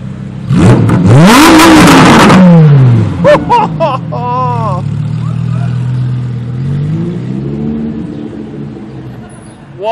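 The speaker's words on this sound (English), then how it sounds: "The Lambo that just gave us a few revs" A Lamborghini Huracán Performante engine revs sharply several times, rising and falling loudly up close, then settles into a lower rumble as it pulls away, with voices nearby.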